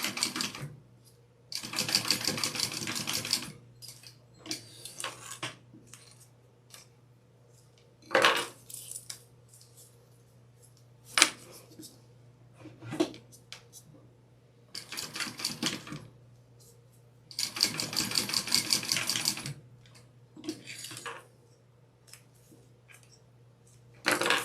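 A sewing machine top stitching a fabric cookie carrier runs in several short bursts of rapid mechanical stitching, separated by quiet pauses with clicks and fabric handling.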